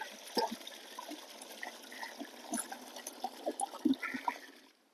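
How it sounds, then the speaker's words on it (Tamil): Water trickles and splashes into a jeevamirtham fertilizer mix of soil and liquid, faint and close, with small irregular drips and sloshes that fade at the end. "இது கூட கொஞ்சம் தண்ணீர் கலக்கிக்கலாம்."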